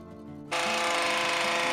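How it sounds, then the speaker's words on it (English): A power tool, likely a hedge trimmer, cutting back a boundary hedge toward the fence line on an allotment in autumn; a quiet hum jumps into a loud, steady motor whine after half a second, close and continuous. "commence stripping the boundary hedge back to the fence line"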